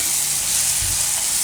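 Tomatoes go into hot oil with turmeric and red chilli for soya paneer bhurji, giving a loud, continuous sizzle and frying hiss that stays close and steady the whole time, with no talk.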